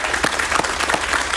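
Audience applause breaks out on a Spanish-language talk show, a short burst of dense, steady clapping heard alone for about a second and a half.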